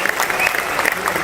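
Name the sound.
audience applause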